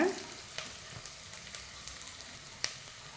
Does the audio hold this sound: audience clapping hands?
no